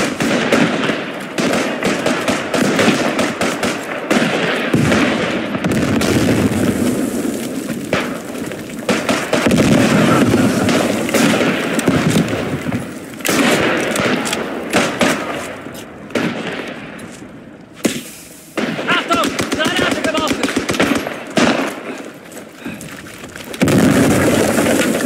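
Dense gunfire and explosions in the video game Beyond The Wire as a tank is attacked from behind, loud bursts and booms repeating with brief lulls throughout.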